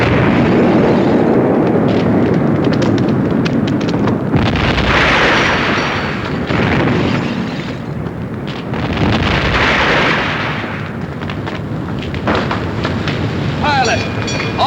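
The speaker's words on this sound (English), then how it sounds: "Direct hit on Exeter, sir!" A shell strikes the cruiser Exeter during a naval battle off the River Plate in a war film, heard as heavy roaring blasts and rumbling surges layered with wind-like noise and shouted voices throughout.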